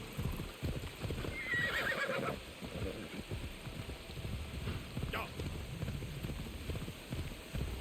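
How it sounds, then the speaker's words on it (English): A horse in the Assassin's Creed video game whinnies loudly once, then its hooves clip-clop steadily as it trots and gallops, with a second shorter neigh later and someone talking quietly now and then. "Let's call my horse."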